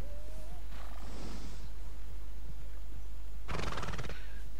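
A horse in the Red Dead Redemption 2 video game gives a loud whinny, followed moments later by a short burst of hooves clopping, with no talk.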